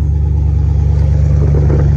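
A 1996 Ford F-150 pickup engine runs close by, a steady low idle rumble with a throaty rise in revs toward the end, loud and alone without speech.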